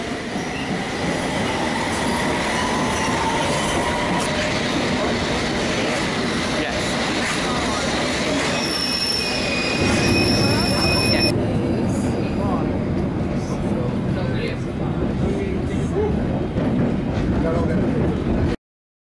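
A London Underground District line train at Aldgate East rumbles loudly and continuously, with high, sustained wheel squeals ringing out over the roar midway before the pitch drops and the noise settles into a steady rolling drone.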